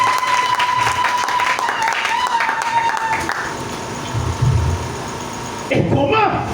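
A church congregation applauds in bursts, with clapping rising and falling beneath a preacher's amplified French voice. A final loud flurry of applause closes the passage.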